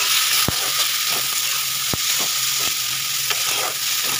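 Crushed spices and tilapia with peas and Kashmiri chilli sautéing in hot oil in a pan, a steady loud sizzle broken by several sharp scrapes and knocks of a spatula stirring, no voices.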